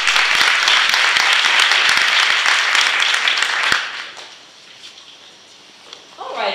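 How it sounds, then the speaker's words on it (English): Audience applause for a speaker taking the stage at the Talent Boost Summit, dense, loud clapping from a large crowd that stops sharply midway, leaving quiet room tone before a voice begins. "Give Elina a big round of applause."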